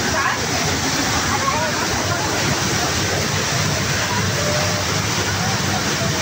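Düden Waterfall in Antalya pours over a cave from above, a loud continuous rushing roar with splashing and dripping water close by, and talk is buried in the noise.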